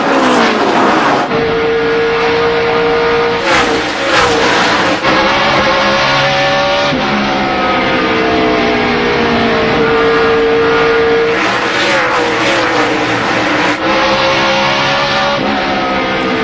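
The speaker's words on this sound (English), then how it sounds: "And Rusty Wallace goes by Junior" NASCAR stock cars roar around Bristol during the 2002 Sharpie 500, a loud unbroken pack of V8 engines whose pitch rises and falls as cars pass close, with repeated surges of engines sweeping by.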